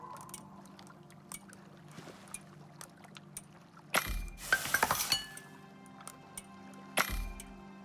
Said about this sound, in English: I do need to use a cooking bench here really quick